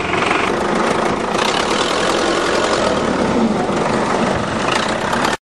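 A tractor engine runs steadily and close by, a rough mechanical roar that holds constant throughout with no speech over it.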